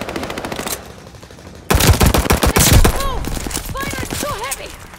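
Heavy automatic gunfire rattles in dense bursts during a Hardpoint match in Call of Duty Vanguard on the Sub Pens map, loud and close, fading briefly before erupting again, with voices calling out over the shooting.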